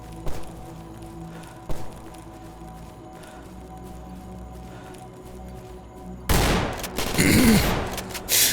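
Shotgun gunfire in the S.T.A.L.K.E.R. Anomaly video game, a loud burst of blasts arriving late after a quieter stretch of scattered thuds and low ambient rumble.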